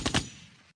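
A gunshot sound effect cracks out twice in quick succession, sharp and close, then trails off into a short decay.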